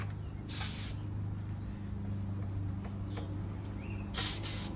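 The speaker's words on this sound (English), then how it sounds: "Clean out our airbrush real quick." An airbrush being cleaned out between paint colors sprays in two sharp bursts of bright hissing air, one near the start and one near the end, with a low background hum in between.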